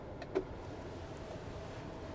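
Low electric motor hum of a panoramic sunroof opening in a 2024 Chevrolet Traverse RS, steady and quiet inside the cabin after a small click.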